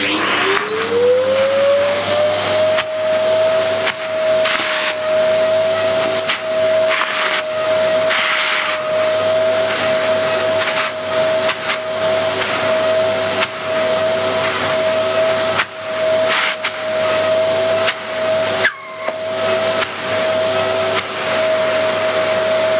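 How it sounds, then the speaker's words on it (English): A Hoover Purepower 2100 watt upright vacuum cleaner runs loud and steady as it sucks up spilled flour, its motor whine rising at the start and then holding, with brushing thumps as it is pushed back and forth. "there is a lot of suction with this cleaner. It is very powerful, especially for an upright."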